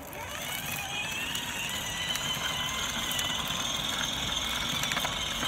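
A small electric kids' motorcycle running on a 6-volt battery whines steadily down a residential driveway, a thin motor hum with faint squeals, moderately close and continuous with no talking.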